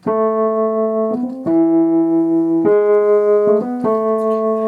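A steady electronic synth bass line of sustained, buzzy notes, shifting pitch every second or so, loud and alone with no other instruments.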